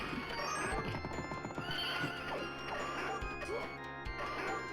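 A horse in the video game Knights of the Round whinnies and snorts amid clip-clopping hooves and occasional thuds, with game-like sound effects layered throughout, fairly loud and busy.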